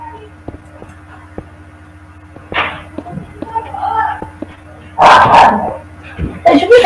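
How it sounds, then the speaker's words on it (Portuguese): A dog in the video game Minecraft gives a few short barks and yips, with a sharper burst near the end, amid quiet clicking and someone talking. "Oh, cachorro."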